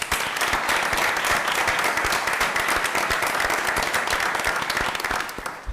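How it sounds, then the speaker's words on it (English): Applause for Teachers of the Year at a Berkeley County School District board meeting, a loud continuous roar of many hands clapping, with crisp individual claps standing out, sustained for several seconds before easing slightly at the end. "please, again, join me in giving them a huge round of applause"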